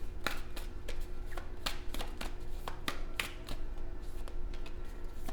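Oracle cards are shuffled by hand at a tarot reading, giving quiet, close, irregular crisp slaps and riffles with no talking.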